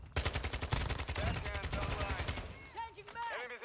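Rapid automatic gunfire from a Kastov 74U rifle in Call of Duty MW2 rattles in a fast, steady stream for over two seconds, then stops as a voice speaks briefly at the end.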